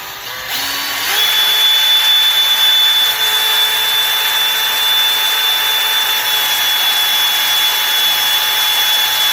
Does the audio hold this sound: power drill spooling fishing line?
yes